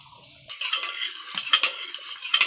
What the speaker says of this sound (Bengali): হাতা দিয়ে ঘুটে নিচ্ছে